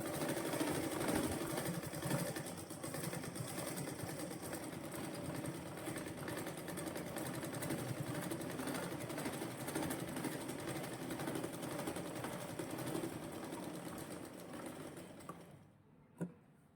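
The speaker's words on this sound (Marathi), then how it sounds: "त्यामुळे मी खालून शिवतीये" A sewing machine stitches a blouse with shoulder-to-waist darts: a steady, fast mechanical whirring runs continuously, close and fairly loud, then stops near the end, followed by a single small clack.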